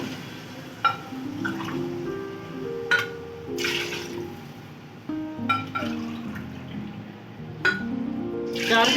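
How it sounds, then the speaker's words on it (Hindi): Water is poured from glasses into a cooking pot for Afghani pulao, several short splashing pours with clinks between them, fairly quiet and close. "चार गिलास पहले हम इसमें पानी डालेंगे"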